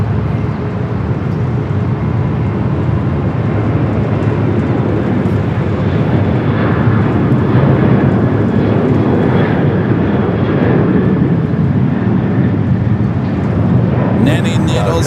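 An airliner at LAX bound for Honolulu gives off a loud, continuous engine roar that swells slightly and holds steady throughout, close and dominant.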